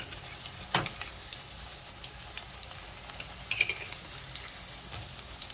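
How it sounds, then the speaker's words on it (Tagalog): Squash okoy fritters frying in oil, a soft, continuous sizzle with scattered sharp pops and crackles, plus a few light clinks of a utensil against the pan. "ayan na yung ating ukoy na piniprito"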